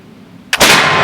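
A single loud, close blast from a Lyman Great Plains black powder rifle erupts about halfway through, following a brief sharp crack, and its boom lingers at high level to the end over a quiet outdoor background.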